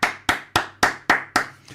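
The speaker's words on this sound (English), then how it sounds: "And do you know why I'm clapping?" Hands clap six times in a steady, even rhythm, each sharp and close, with a faint low hum beneath and no talking.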